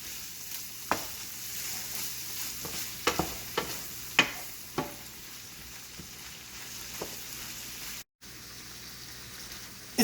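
Ground beef, green beans and mushrooms sizzle steadily in a pan, with a soft continuous fry broken by several sharp scraping clinks of stirring, quiet and close.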